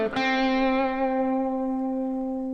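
A single electric guitar note is picked, slid up and back down and held with wavering slide vibrato, ringing rich in harmonics through a distorted, effected tone that sustains and slowly fades.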